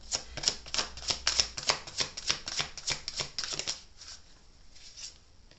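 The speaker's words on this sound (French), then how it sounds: "mes cartes, elles ne veulent pas se mélanger" Tarot cards are shuffled by hand in a quick run of crisp riffling flicks, loud and steady for about four seconds before trailing off into softer, sparser card sounds.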